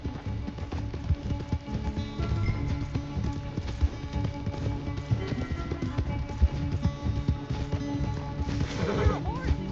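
Horse hooves clip-clop at a run with an occasional neigh in Red Dead Redemption 2, set under game music and spoken dialogue, with a louder whinny near the end.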